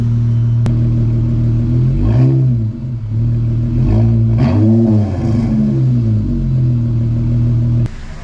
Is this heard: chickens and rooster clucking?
no